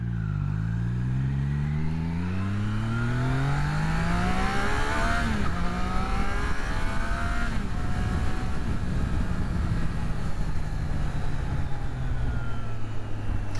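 A Triumph Trident 660 motorcycle accelerates hard through the gears, its engine rising in pitch with a brief dip at each shift, then holds a loud steady drone with wind rush, heard from the rider's position.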